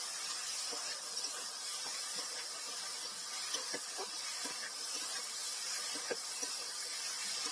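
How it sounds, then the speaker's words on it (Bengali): Boiled potatoes fry in a pan with salt and turmeric, giving a steady, even sizzling hiss dotted with small crackles and pops throughout, with no talking. "লবণ হলুদ দিয়ে আলু খুব ভালো করে ভেজে নিতে হবে।"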